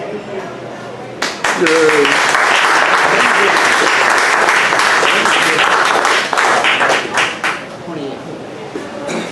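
After a brief pause, a crowd at a political candidacy announcement in Atlanta bursts into loud, sustained applause that fades out near the end, with a few voices underneath.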